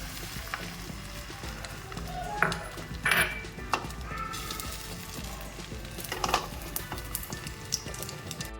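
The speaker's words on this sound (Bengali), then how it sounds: "আমি একটু ডিম ভেজে নিচ্ছি" Eggs frying in a pan on a home kitchen gas stove, a soft steady sizzle with occasional sharper crackles and spatter pops, heard close and alone.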